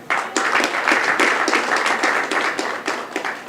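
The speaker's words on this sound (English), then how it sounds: "give them a round of applause" Sustained audience applause at an awards presentation on Nevis, dense and even clapping from a crowd that holds steady for several seconds before tapering slightly.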